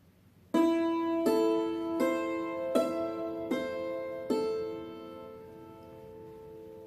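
A hammered dulcimer rings out six struck notes in a steady rising arpeggio from a song, each strike bright and sustained, overlapping into a shimmering decay.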